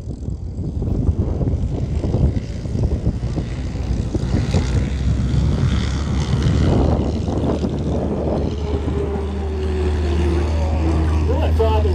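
A PC-21 aircraft flying a display manoeuvre at an air show at Temora Aviation Museum, its propeller engine roaring loud and continuous throughout, with a rising whine near the end and a commentator's voice over it.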